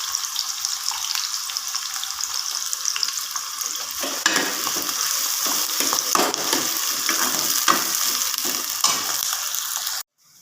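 Chopped onions fry in a kadai for a okra curry, a steady loud sizzle with occasional stirring scrapes and crackles, ending abruptly.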